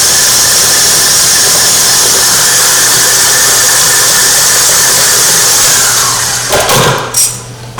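A handheld mixer whips Yukon Gold mashed potatoes with a loud, harsh, continuous whirring close by, then slows and stops in the last second or two.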